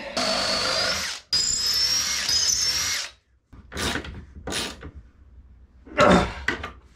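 A power drill drives fasteners into a part on a wooden boat under restoration: a loud sustained whirring run, a brief stop, then several short bursts of drilling with pauses between them, close by and without talk.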